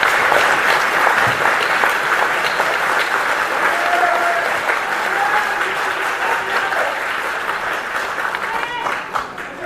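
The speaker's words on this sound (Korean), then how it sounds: "같이 한번 박수를 한번 주셔보겠습니다" A lecture audience claps for a retired general at a security talk, a sustained close roll of applause that thins slightly toward the end, with a voice faintly mixed in.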